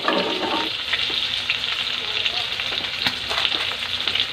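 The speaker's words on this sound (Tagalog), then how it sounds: "Ayan natin ma-fry ng kaunti ang ating mushroom" Button mushrooms frying in a pan for a stir fry of vegetables and tofu, a dense, continuous close sizzle with faint stirring scrapes throughout.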